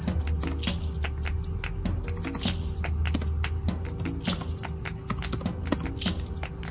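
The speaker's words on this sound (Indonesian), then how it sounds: "Langsung input message-nya kita ketik" Fingers type a message on a computer keyboard in a quick, uneven run of crisp key clicks, close and fairly loud, over a faint steady electrical hum.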